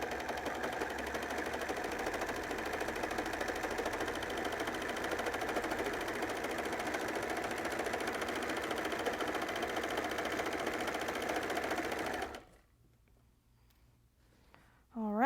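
A sewing machine runs continuously for about twelve seconds as it stitches knit fabric onto elastic, a steady mechanical whir that then stops abruptly, leaving near silence and a brief faint squeak.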